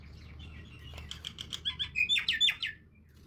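Common myna birds chirping near a house beside a road, a run of bright, varied calls and whistles building over a low traffic rumble before tapering off.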